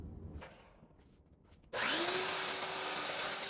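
A power saw starts up abruptly partway through and cuts through a 1x12 wooden board, a loud sustained whine after a quieter lead-in of light handling noises.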